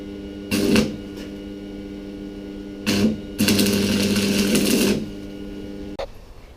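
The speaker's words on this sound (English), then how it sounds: "Now I quickly have to get the welder out and weld this wastegate shut" A welder seals the internal wastegate shut on a turbocharger for a BMW E36 with an M40 engine, giving bursts of hissing, crackling arc noise, a short one then a longer steady run of about two seconds, close and fairly loud with no talk.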